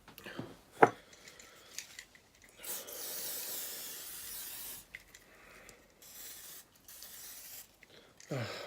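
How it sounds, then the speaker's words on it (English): Deep freeze pain relief spray is sprayed onto elbows in a few hissing bursts, the longest lasting about two seconds, fairly close, with rustling and handling noises between. "just sticking some deep freeze pain relief spray on my elbows, just to take some of the pain and throbbing away"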